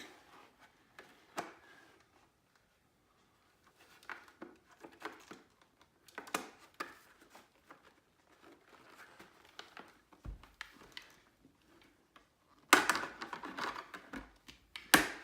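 Smoke shields snapping into place on a Simpson Ghost Bandit helmet: a series of sharp, close clicks spaced apart, with light plastic handling rustle between them and a denser burst of clicking and rattling near the end.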